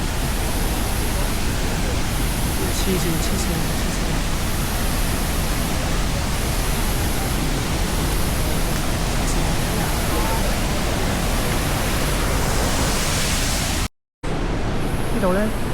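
A big waterfall near Shifen, Taiwan roars loud and close in an unbroken, full-bodied rush of falling water, cut by one brief dropout near the end, with a voice speaking briefly over it.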